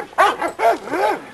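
Several barks from a single dog, a Tonka-bred female, in a backyard: three harmonic woofs evenly spaced and close by, each with a short rising-and-falling whine-like tone, and no voices over them.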